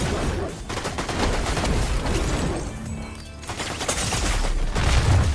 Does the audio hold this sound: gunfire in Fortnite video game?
yes